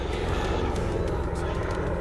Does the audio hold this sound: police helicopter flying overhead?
yes